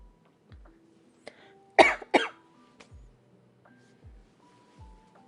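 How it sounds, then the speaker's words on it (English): Two sharp coughs in quick succession, close and fairly loud, standing out against a quiet background. "Since I cough so much during these lives and sneeze"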